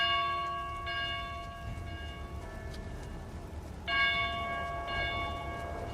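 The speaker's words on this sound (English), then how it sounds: "the sound of one of the smaller bells from one of the belfries can be heard ringing" A small church bell rings from a belfry, sustained metallic tones with a couple of fresh strikes swelling over a low rumbling background, no voices present.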